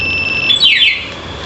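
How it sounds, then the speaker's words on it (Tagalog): A two-way anti-theft alarm on a Suzuki Access scooter sounds a loud, close electronic beep that shifts into rapid falling warbling chirps, over a low background hum. "Pag nilock natin, mamamatay, mag-a-alarm na po yan."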